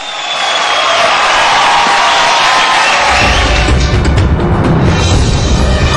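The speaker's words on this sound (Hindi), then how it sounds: "जोरदार तालियां" Loud audience applause and cheering at a TV entertainment show, dense clapping with whoops filling the whole stretch and swelling heavier in the second half.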